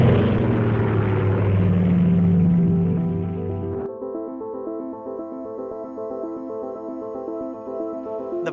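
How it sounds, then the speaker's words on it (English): Aircraft engines drone loudly during a Japanese airplane attack on a navy ship, a dense, rumbling roar that drops to a steadier, humming propeller tone partway through. "Japanese airplane attack."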